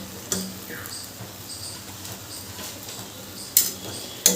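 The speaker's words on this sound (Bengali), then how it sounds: "টমেটোটা দিয়েও আবার ভালো করে মিশিয়ে নেব" A spoon stirs chickpeas, peas and chopped tomato in a pan, giving a quiet sizzling background with a few sharp metallic taps against the pan, close with no talk.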